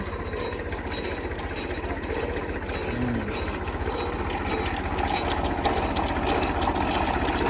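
A borewell machine used for lowering and raising pipes runs on a farm field, its engine thumping in a steady fast rhythm with mechanical clatter layered over it, close and continuous throughout.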